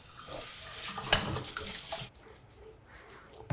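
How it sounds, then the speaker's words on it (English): Cold tap water runs over macaroni in a colander during draining, a steady splashing rush for about two seconds with a sharp clank, then quieter kitchen room tone. "Rinse under cold running water and drain well."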